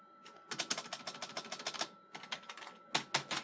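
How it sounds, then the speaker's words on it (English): Keys clatter on a Tandy 1000 TX computer keyboard in quick, close bursts of rapid presses, with a short pause between runs. "I'm pressing all the keys. It's not doing anything."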